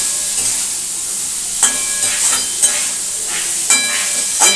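Masala with fried fish-roe fritters sautéed in a pan, a loud close hissing sizzle with several scraping strokes of a spatula at irregular intervals.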